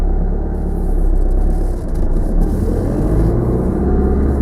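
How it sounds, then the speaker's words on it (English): A car idles and runs steadily during a driving lesson, a loud, close low engine rumble inside the cabin with small swells in level. "So start the car up in your normal manner"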